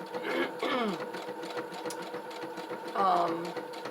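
A sewing machine hums steadily for several seconds while a person speaks over it, the motor whirring beneath the voice.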